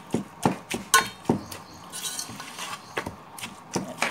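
Mutton is mixed by hand with biryani masala in a metal bowl. Close, sharp clinks and taps of a spoon come at an uneven, steady pace.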